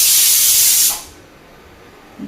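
Steam hisses loudly and steadily from a pot of boiling dal in a home kitchen, then cuts off abruptly, leaving near silence with a faint low thump at the end.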